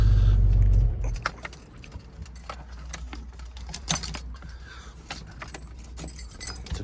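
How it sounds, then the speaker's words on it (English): Keys jangling faintly as the key is pulled from the ignition of a Fox Body Mustang, two-handed with a release knob under the steering column; a loud low rumble cuts off in the first second, leaving soft clicks and rattles. "Two-handed job to take the key out of the ignition of these because it has the release knob under the steering column."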